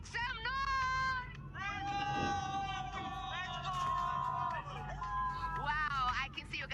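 A crowd at a Free Fire World Cup watch party cheers and whoops loudly in waves, with high shouts and squeals rising over a dense babble of voices.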